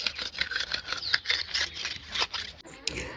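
A blade being sharpened by hand outdoors in a village in Western Uganda makes repeated rasping, grinding strokes in an uneven rhythm, close and fairly loud, with no talk over them.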